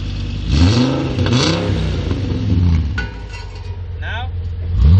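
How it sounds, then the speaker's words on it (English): A car with an empty exhaust revs loudly and repeatedly, the engine note rising and falling in strong surges close by, with people talking over it. "Rev it."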